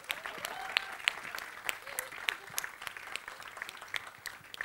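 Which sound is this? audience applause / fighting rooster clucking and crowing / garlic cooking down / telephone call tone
audience applause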